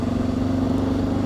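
A vehicle driving through traffic in Corfu, with a steady close engine hum and drone and a constant low tone, brief and unchanging, no talking.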